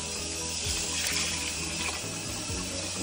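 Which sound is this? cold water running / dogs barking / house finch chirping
cold water running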